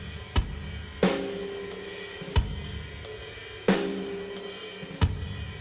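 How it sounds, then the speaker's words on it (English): Live acoustic drum kit with every drum individually close-miked, playing a sparse pattern of loud, punchy hits roughly once a second with cymbal wash ringing between strikes, no voices. "These are the live drum tracks, individually mic'd for everything."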